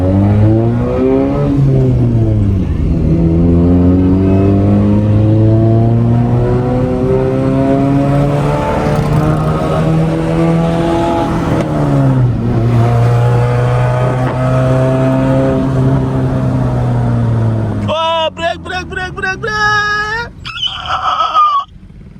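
A voice imitates a car engine revving, a long continuous rising and falling drone with pitch sweeps, ending in a few higher squealing bursts.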